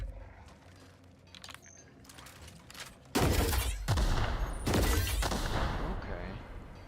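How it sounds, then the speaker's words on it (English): Plasma launcher in The Outer Worlds, a grenade-like weapon, firing: a sudden loud burst kicks in a few seconds in and is followed by a sustained run of heavy blasts and crackling explosions, with no one talking. "Let's see how the plasma launcher is."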